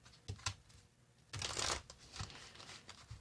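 Tarot cards being shuffled by hand: a few quick, soft riffling bursts with short pauses between them, close and quiet.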